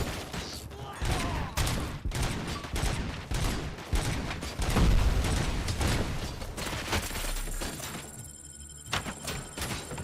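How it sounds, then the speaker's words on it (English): Gunfire and explosions from the Robocop Rogue City video game burst in rapid fusillades with heavy thuds throughout, loud and dense. "Did that guy just explode something?"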